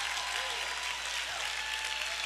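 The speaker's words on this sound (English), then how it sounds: "Come on and put your hands together for him" A church congregation applauds Mr. Tony Randall, a soft, even wash of many hands clapping together, sustained and fairly distant throughout.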